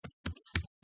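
A computer keyboard clacks as C code is typed, four quick, close keystrokes spaced unevenly in a short burst, quiet and alone.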